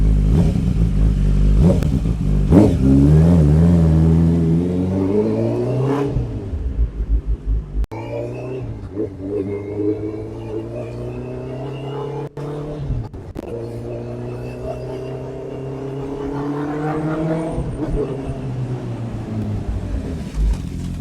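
A 2019 Honda CB650R four-cylinder motorcycle engine revs up and down repeatedly, loud and close, with a smooth rising and falling whine and brief pauses between revs.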